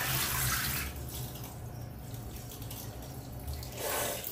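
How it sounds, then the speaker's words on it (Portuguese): Cold tap water runs steadily at home for washing hair, a close, continuous splashing rush that swells slightly at the start and end. "vamos enfrentar a água gelada."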